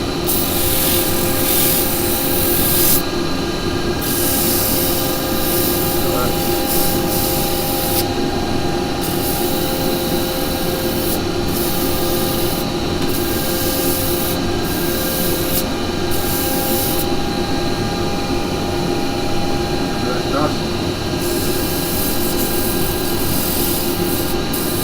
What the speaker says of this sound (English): I've just got to sand that off on that bottom